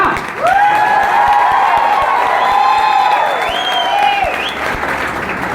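A crowd at an anniversary gathering bursts into loud sustained applause, with whoops and cheering voices sweeping over the continuous clapping.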